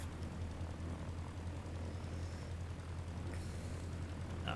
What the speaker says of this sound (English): We'll taxi out to the middle of the runway